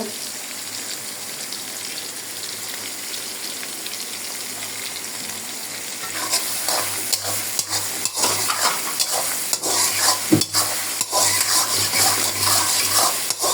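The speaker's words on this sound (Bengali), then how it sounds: "লাল লাল করে ভেজে নেব।" Chicken frying in a pan, a soft low sizzle that grows louder and busier halfway through, with sharp crackles and bursts of spattering close by, no speech.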